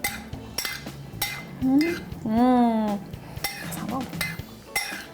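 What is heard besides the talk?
utensils clinking while mixing fusilli pasta with sauce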